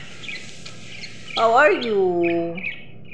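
Pet birds chirp faintly in the background while someone speaks over them, her voice rising and falling loudly in the middle.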